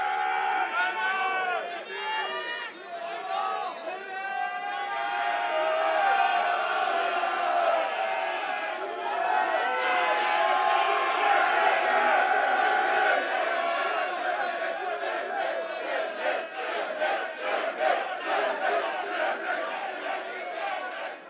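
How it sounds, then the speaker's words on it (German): A rap battle audience at the Alpha Royale x TopTier Takeover semifinal roars with sustained cheering and shouting, a dense, loud crowd swell that holds for the whole stretch. "war eine geile Reaktion vom Publikum"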